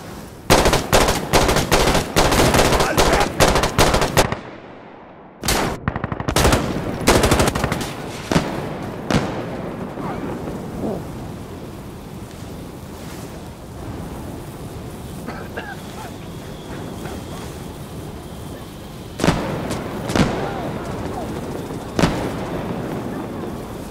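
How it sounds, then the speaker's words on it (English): Insurgency Sandstorm combat: dense, rapid gunfire and sharp blasts of explosions crowd the opening seconds, then scattered shots and booms continue against a rumbling background, with voices talking throughout. "Here comes the battle bomb!"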